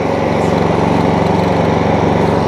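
Stihl RL540 petrol lawn scarifier engine running steadily, a loud, close, buzzing drone with an even, rapid pulse and no talk.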